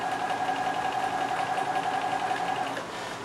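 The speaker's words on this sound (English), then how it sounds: "we're just going to sew absolutely right on top of our traced line" A domestic sewing machine stitches a dart along a traced line in fabric, giving a steady, fairly quiet mechanical whir with a fast regular needle rhythm and no talking.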